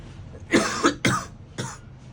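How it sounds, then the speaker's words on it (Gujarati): Three sharp, close coughs from one person in quick succession, the first a double burst, with a quiet pause before the last. "ઉધરસ થઈ ગઈ"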